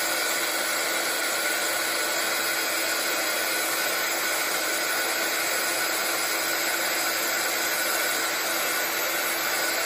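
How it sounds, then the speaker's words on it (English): A dual speed heat gun blows steadily for about ten seconds, melting embossing powder on a card project held in tweezers: a loud, continuous broadband whoosh with a high whine, no voices. "use my dual speed heat gun and apply heat just for a couple of seconds"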